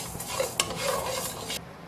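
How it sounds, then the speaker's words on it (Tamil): Raw rice dry roasting in a pan for sambar powder, a short stretch of scraping stirs and light rattling grains with a faint sizzle, cut off abruptly near the end. "அரிசியும் நல்லா பக்குவமாக வறுத்து எடுக்கணும்."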